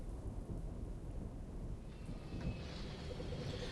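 A thunderstorm with rain: a heavy, constant downpour under low, rolling thunder rumbles, steady throughout with no voices.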